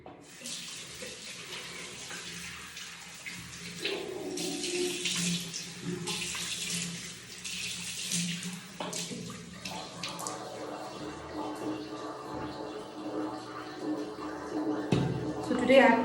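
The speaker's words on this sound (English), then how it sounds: "So let's start by washing the face." Tap water runs steadily into a bathroom sink during a morning face wash for oily, acne-prone skin, a continuous close splashing hiss that grows louder partway through and carries on without pause to the end.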